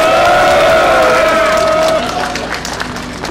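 An outdoor street crowd at a political campaign rally in Gwangju claps and cheers loudly, shouts and a held tone mixing over dense clapping that fades slightly toward the end.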